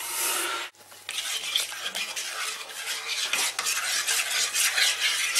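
A spoon stirs yeast into slightly warm water, giving steady close-up scraping and swirling with a few light clinks, over a faint low hum after a brief pause near the start.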